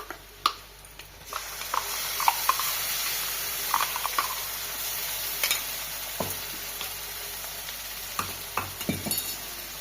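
Steady sizzling of onions and spices frying in a pan for a rohu fish curry, with scattered crackles and pops and occasional stirring scrapes, no talking.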